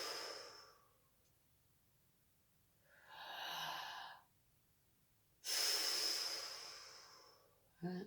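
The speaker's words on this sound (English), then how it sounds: "Last big breath in and out." Slow, deep breaths in and out during a seated chair yoga session, each audible inhale and exhale drawn out over a few seconds, close and fairly quiet with pauses between.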